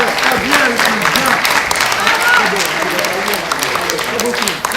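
Theatre audience applauding at the close of a film screening in a charity stage show, a dense steady wash of clapping with voices talking over it throughout.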